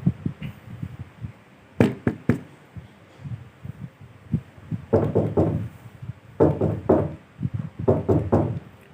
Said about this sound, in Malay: terdengar bunyi ketukan pintu